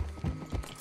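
Hooves of a Dalmatian horse clip-clop in Red Dead Redemption 2, a few close, soft thudding steps in quick uneven succession over less than a second.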